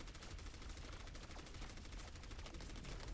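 Rapid, evenly spaced automatic fire in an Overwatch collegiate esports match between Murray State University and Becker College, heard as a faint, continuous rattling stream.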